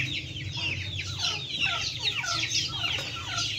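Aseel rooster on a farm clucking close up in a rapid run of short calls, with other fowl faintly in the background.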